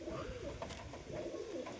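Pigeons kept as flying birds coo in two soft, rolling bursts close by, the throaty calls rising and falling against a constant low background.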